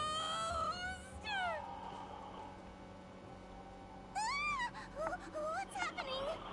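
A ghostly wail in the video game Honkai Star Rail: rising and falling moaning tones at the start and again near the end, loud over a low game background hum.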